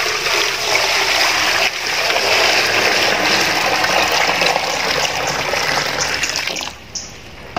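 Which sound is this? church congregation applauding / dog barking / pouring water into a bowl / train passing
pouring water into a bowl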